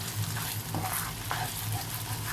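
Bacon and garlic fry in olive oil, a close, continuous sizzle and crackle with soft stirring underneath.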